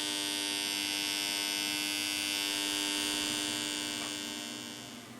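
A repaired oscilloscope transformer, rewound after burning out, hums steadily on its own, a close, continuous mains drone with buzzy harmonics that holds level and eases slightly near the end.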